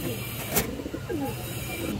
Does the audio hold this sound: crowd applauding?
no